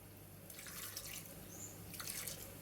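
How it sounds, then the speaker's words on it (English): Vinegar pickle water is poured onto potatoes in two short, faint splashing pours separated by a pause, soft and close in a quiet room. "We're going to use some of the vinegar pickle water to moisten our potatoes to make them smooshable."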